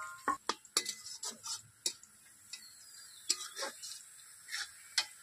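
Spice paste being worked by hand into rooster meat for a curry, heard as scattered soft wet squelches and light clicks at an irregular pace, close and fairly quiet with no talking.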